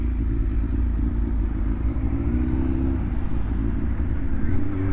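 A Yamaha 600 Fazer café racer fitted with a Leovince exhaust cruising along, its engine a steady low droning rumble with constant wind noise, heard close and loud throughout without talk.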